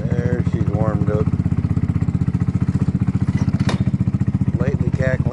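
Carbureted Kymco 250cc scooter engine idling steadily after warming up, a low rapid putter that runs continuously throughout, close by, with someone talking briefly over it.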